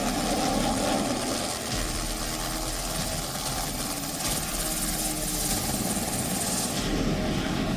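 Sarang helicopter display at the Aero India 2021 air show, a steady loud rotor-and-turbine roar that holds without a break, wide and continuous overhead.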